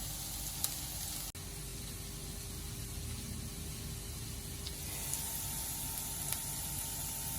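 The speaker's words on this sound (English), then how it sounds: "The chorizo and onions and garlic are cooking quite nicely." Chorizo, onions and garlic fry in a pan for beef chilli, giving a steady close sizzle and hiss with a sharp clack near the start and faint stirring ticks later.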